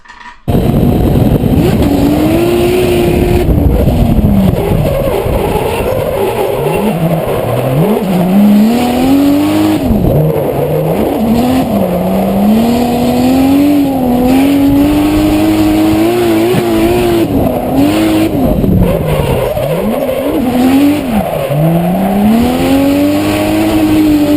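A drift car's engine revs hard and loud, its pitch repeatedly climbing and dropping as the driver works the throttle, while tires squeal in long stretches during the drifts.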